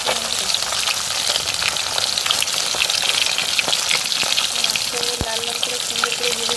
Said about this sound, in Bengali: লাল লাল করে সুন্দর করে ভেজে নিই